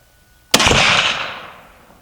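Single sharp rifle shot from a 450 Bushmaster firing a Barnes 250-grain TTSX bullet: a loud, sudden crack after a half-second of quiet, with a broad roar that decays over about a second and a half outdoors.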